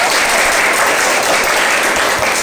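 Classroom applause for students being congratulated on their test scores, steady continuous clapping from many hands filling the room, loud and close throughout.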